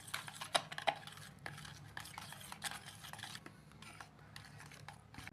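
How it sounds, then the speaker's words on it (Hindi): Cucumber raita with cream and mayonnaise being stirred in a bowl, a spoon scraping and clinking against the sides in irregular close taps and swishes, no talking. "अब इन तमाम चीज़ों को अच्छी तरह से मिक्स कर लेंगे।"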